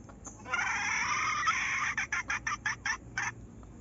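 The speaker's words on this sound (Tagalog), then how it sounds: "Ayan naman yung aking inahin." A hen gives a drawn-out squawk, then a rapid series of short, rhythmic clucks, close and fairly loud with no talking.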